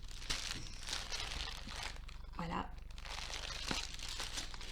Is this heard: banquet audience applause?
no